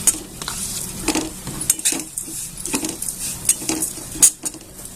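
Poha with ghee dry-roasting in a pan, heard as a steady soft rustle and faint sizzle broken by the scrape and clink of a spoon stirring against the metal, close and alone.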